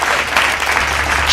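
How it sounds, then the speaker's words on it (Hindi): Audience applause at a Hindi poetry recitation event, a dense steady burst of clapping heard briefly and loudly, with no talking over it. "एक बार जोरदार तालियों से आमंत्रित कीजिए"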